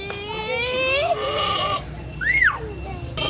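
A goat bleats close by, one long rising wavering call followed by a shorter sharp bleat, with people talking around it.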